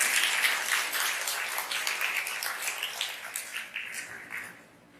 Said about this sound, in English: let's give a round of applause for all the teachers and the non-teaching staff